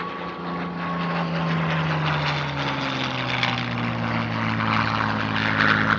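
A Hispano Buchon, the mid-1950s Spanish licence-built Messerschmitt Me 109, flies at a vintage warbird airshow. Its propeller engine gives a loud, continuous drone that shifts in pitch as it passes, with no talk.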